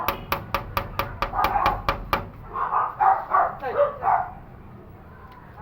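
A quick series of sharp, rhythmic knocks or rattles at a gate gives way to several dogs barking and yipping nearby in uneven bursts.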